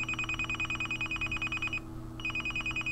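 A cell phone rings repeatedly from a flood of incoming SMS text messages, a rapid pulsing electronic tone that breaks off briefly and then resumes over a steady low hum.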